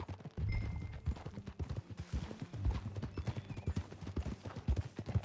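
A horse's hooves clip-clop in a steady, close walking rhythm in the video game Red Dead Redemption 2, with a brief whinny-like sound mixed in.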